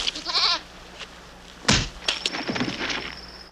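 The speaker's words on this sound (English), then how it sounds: "This is Pando the horny goat boy" A goat creature from the fantasy film Sorceress bleats in short wavering cries, followed by a sharp thump and rustling movement, fairly close with no talk.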